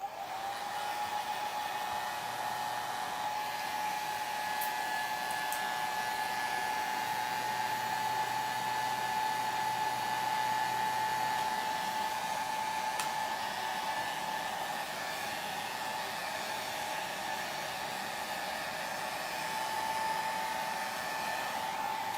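A hair dryer blows steadily on a watercolor painting of a Peruvian tiger lily, its constant high whine and airy rush holding close and unbroken throughout, with no talking.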